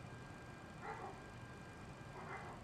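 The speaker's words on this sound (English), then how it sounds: "Oh, you hear the dogs? Man, these dogs." Dogs barking near a general aviation airfield on a hockey team charter flight, a few faint, distant yips and barks standing out against a steady background hum.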